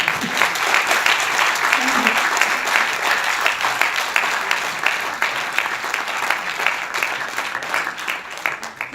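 An audience at an anti-drug campaign event claps steadily in a dense, sustained round of applause that carries through the whole stretch.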